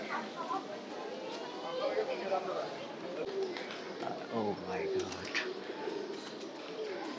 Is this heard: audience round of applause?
no